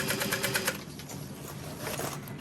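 A sewing machine runs a basting stitch on a bowler bag panel, giving a quick rhythmic chatter of needle strokes up close that eases off briefly, then picks back up.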